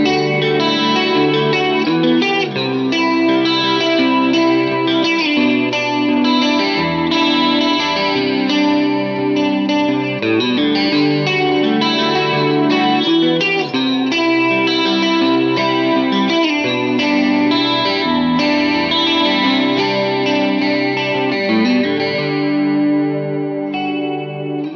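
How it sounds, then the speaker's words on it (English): Telecaster electric guitar run through a chorus pedal for a shimmering indie tone, playing continuous chords and melodic lines loud and close for the whole stretch. "Add a chorus pedal to that and you've got a beautiful indie tone."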